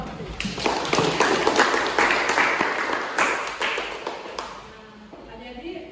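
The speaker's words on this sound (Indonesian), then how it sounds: "kita kasih aplaus dulu" A classroom of young students claps together, a dense burst of close, steady applause that fades out toward the end.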